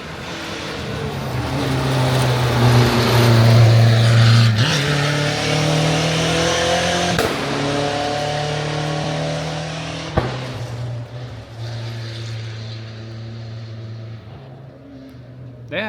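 Rally car engines drone loudly and shift pitch as they rev through gears at a rally event, with a person talking over the steady motor noise.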